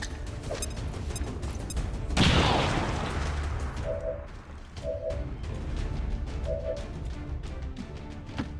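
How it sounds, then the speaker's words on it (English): Grenade explosion in the XCOM 2 video game; a single loud boom bursts out midway and decays into a rumbling wash, set among game ambience, mechanical clicks and short electronic beeps. "Throwing grenade!"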